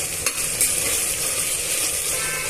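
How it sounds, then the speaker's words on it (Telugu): Ginger garlic paste fries in a pan with a constant close crackling sizzle, a few light utensil scrapes and no voices. "అల్లం వెల్లుల్లి పేస్ట్లో పచ్చివాసన పోయేంత వరకు వేయించుకోవాలి."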